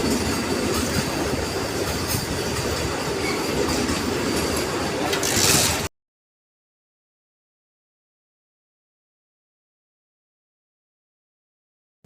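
A Vande Bharat express train rumbles past close by with steady clattering wheels and a metallic screech, then the sound cuts out abruptly into silence.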